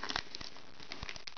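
A Pokémon card pack's foil wrapper crinkles and crackles in short, quiet bursts as scissors cut it open, a few brief rustles close by with no voices.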